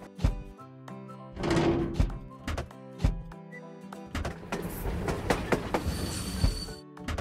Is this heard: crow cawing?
no